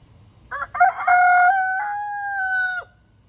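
A rooster crows loudly and close by in a farmyard, one long drawn-out call that lasts about two seconds after a brief rough opening note.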